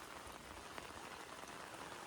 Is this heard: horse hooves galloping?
no